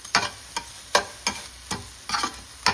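A spatula stirs pav bhaji mixture in a frying pan, making six sharp, close scraping strokes in an uneven rhythm with a light sizzle underneath and no talking.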